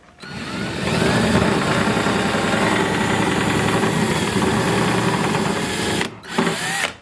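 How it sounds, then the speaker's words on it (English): A power drill bores a hole while a rustic barn sliding door is installed, whining steadily and close for about five seconds, pausing briefly, then starting again. "Let's drill the last hole"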